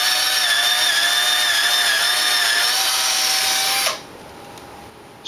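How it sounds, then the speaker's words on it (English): A power drill whines steadily as it pre-drills holes in 2x4 boards for a cat ladder, a loud, close, high-pitched motor tone that holds for about four seconds, then stops abruptly, leaving quiet room noise. "Pre-drill holes 2 inches from each end."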